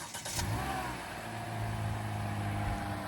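A 2025 Hyundai Elantra starts by remote start, giving a brief cranking burst, then a quick rev that settles into a steady idle, heard from nearby with no talking.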